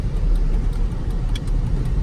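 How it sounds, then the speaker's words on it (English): A Dodge Caravan van idling quietly, a steady low engine hum filling the short stretch without any change in pitch. "it's a very quiet running van"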